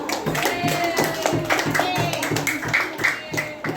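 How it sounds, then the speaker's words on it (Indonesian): A classroom group claps together for another group of students, the hand claps falling in a quick, even rhythm close by while voices carry over them. "berikan tepuk tangan untuk kelompok 1"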